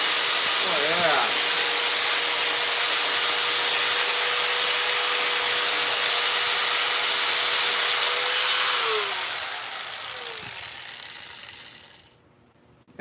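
A chainsaw carves a wooden Steve figure from Minecraft with a loud, steady, high motor whine close by. It runs evenly for several seconds, then winds down and fades nearly to silence.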